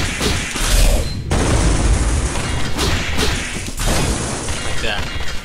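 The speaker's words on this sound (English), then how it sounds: "you can push down on the D-pad to detonate them manually" Business cards detonated manually by Asaru in the Assault Spy video game, a string of loud booming bursts and crackling blasts packed closely together over a continuous game background.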